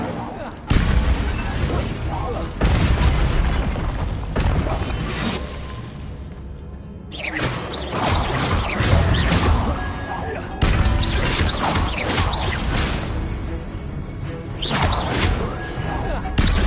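Incendio fire spells burst amid the combat of Hogwarts Legacy, loud and dense, with repeated crashing blasts and whooshes layered over constant game action and occasional voices.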